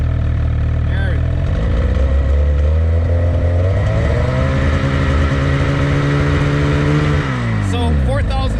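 A 2020 Ski-Doo Summit 850 Turbo snowmobile with an iBackshift clutch revs hard, its engine note climbing and holding loud and close for several seconds, then dropping away near the end.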